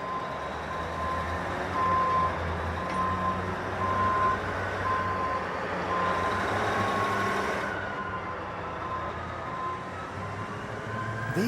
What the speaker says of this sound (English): I'm just waiting for the dump truck to show up.